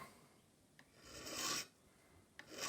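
A file bevels the end of a small pin in a vintage English Enfield mantle clock as it turns in a pin vise, giving two faint rasping strokes separated by quiet.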